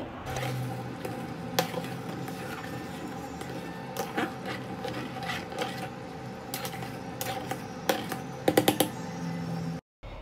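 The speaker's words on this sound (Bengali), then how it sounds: "এই পর্যায়ে হালিমটা নাড়াচাড়ার উপর রাখতে হবে, না হলে নিচে লেগে যাবে।" Beef haleem being stirred in a pot, a steady soft scraping and clatter of a spoon against the pot with faint bubbling underneath, no talking, continuous throughout with a few sharper knocks near the end.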